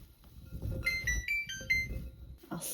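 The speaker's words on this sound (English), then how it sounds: "My oven's about to beep at me." An oven timer beeps in a short series of bright electronic tones of differing pitch, close and clear, amid light kitchen clatter and rustling.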